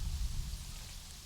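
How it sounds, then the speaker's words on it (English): Steady rain falling across a zoo habitat in the game Planet Zoo, a soft continuous hiss with a low rumble underneath, even and unbroken, with no voices. "I love how the rain looks."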